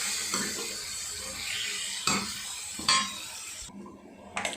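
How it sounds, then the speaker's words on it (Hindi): Water from a mixer jar is poured into a cooking pot of potatoes with okra in green chutney for a Sindhi dish, splashing and sizzling close by, with clinks of utensils against the pot. "थोड़ा पानी डालूँगी"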